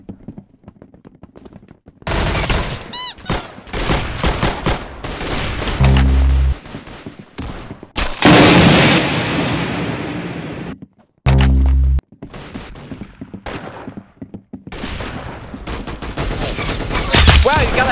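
Gunfire in the Roblox-style shooter Arsenal, loud bursts of rapid shots and sharp impacts in clusters, with short gaps and sudden cut-offs between volleys.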